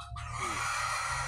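A chicken near a coop under construction gives one short, fairly soft call, heard alone against quiet background hiss.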